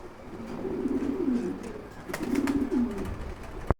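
A pair of grizzle pigeons at a farm coos in two soft, rolling phrases, near and clear over faint background noise.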